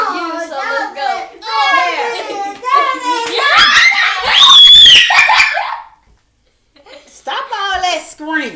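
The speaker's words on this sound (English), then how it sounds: "Stop all that screaming." A child shrieks and screams in high, piercing bursts mixed with giggling and excited chatter from children, loud and close, with a short pause before more talking resumes.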